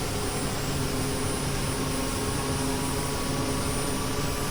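Mil Mi-8 helicopter engines spooling up and gaining power, a loud, constant broadband turbine roar with a steady whine, close and unbroken, with no voices.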